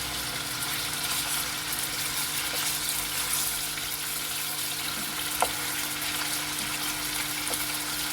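Chicken breast cut into large cubes frying in a pan for a Romanian potato stew, giving a steady, moderately loud broadband sizzle with a faint background hum and a couple of small clicks.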